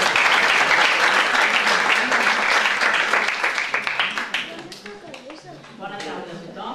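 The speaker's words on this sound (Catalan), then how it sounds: "Un fort aplaudiment." Audience applause at a library's 80th anniversary tribute in Esparreguera, loud dense clapping from a crowd that thins and tapers toward the end with a few scattered claps remaining.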